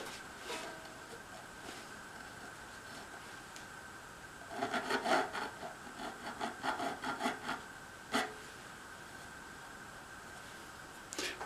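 Small file rubbing sharp fret ends on a ukulele neck, a cluster of quick, soft rasping strokes in the middle with a few isolated scrapes, close and quiet over a faint steady hum.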